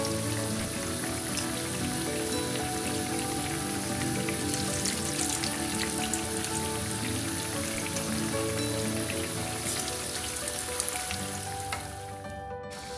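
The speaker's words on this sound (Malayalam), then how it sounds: "ഒരു ട്രിപ്പ് എണ്ണയിലിട്ടിട്ടുണ്ട്" Bread pakoda pieces fry in hot oil, a dense continuous sizzle like steady rain on a surface, holding constant for most of the time before easing slightly at the end.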